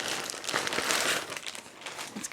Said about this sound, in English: let's get rid of the plastic bag.